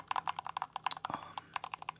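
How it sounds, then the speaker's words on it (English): Mechanical switches on a small keypad are tapped in a quick, close, rhythmic stream of crisp clacks, with no voice. "I love keyboard switches"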